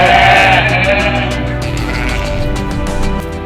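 Goats bleat loudly and close, with a wavering cry at the start followed by ongoing herd noise and further bleating for a few seconds.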